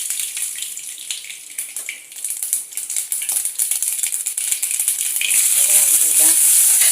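Mustard seeds frying in hot oil in a home kitchen pan, a steady bright sizzle and crackle that swells louder toward the end, heard alone with no talking.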